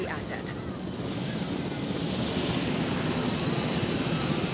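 A helicopter in the Jurassic World Evolution game gives a steady, loud rotor and engine drone that holds level for the whole span, with voices talking over it.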